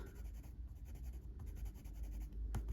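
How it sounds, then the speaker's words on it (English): Soft scratchy strokes of a blender pencil colouring over blue pencil on paper in an adult colouring book, close and steady, with a faint room hum beneath. "I'm going to use my blender pencil just to go into the middle lightest"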